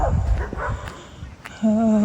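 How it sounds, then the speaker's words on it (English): Puppies at a large dog park give short yips and whimpers, close by, with a longer higher whine near the end. "I can hear some puppies."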